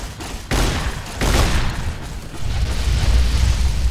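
Riot shotgun blasts in Fallout: New Vegas, Old World Blues, X-13 research facility: several loud booming shots in quick succession, the first at half a second, then a heavier burst and sustained rumbling gunfire.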